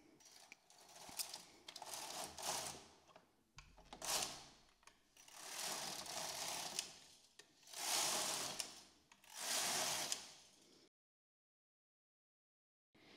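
A knitting machine carriage is run across the needle bed knitting rows of a rib stitch pattern, giving five loud mechanical whirring, clattering passes separated by short pauses, then silence at the end.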